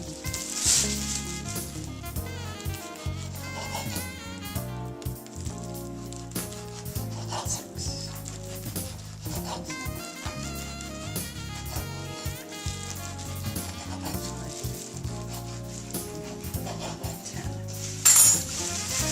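A butter, brown sugar and water mixture sizzles and froths in a pan, a continuous hiss broken by clinks of dishes and utensils.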